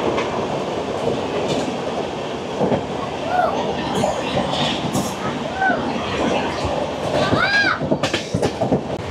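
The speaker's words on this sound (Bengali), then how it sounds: "Chennai central Bilaspur weekly express" Chennai Central–Bilaspur Weekly Express rolls along at speed, a dense continuous rumble of wheels with intermittent rhythmic clacks and brief high metallic squeals, voices murmuring faintly inside the coach.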